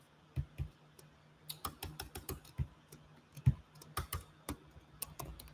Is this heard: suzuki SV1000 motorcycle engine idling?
no